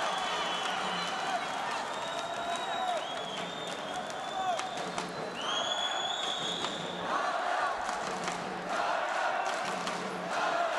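Crowd at an Olympic-style men's welterweight boxing quarter-final between an Italian and a Kazakh fighter, cheering and shouting steadily throughout, with sharp whistles and rising yells, all at a moderate distance.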